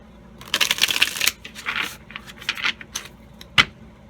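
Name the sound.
tarot cards being shuffled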